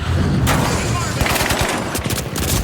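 Video game gunfire crackles in dense automatic bursts and scattered shots, loud and close, with a voice briefly audible among the shots.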